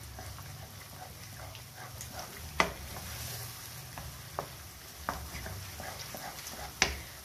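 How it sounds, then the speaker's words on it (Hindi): Makhandi halwa is roasted with sugar in a pan and stirred, giving a soft continuous sizzle broken by a few sharp spoon clinks against the metal. "यहाँ पे मैं इसको भूनती जा रही हूँ, मिक्स करती जा रही हूँ ताकि ये अच्छे तरीके से चीनी इसमें मिक्स हो।"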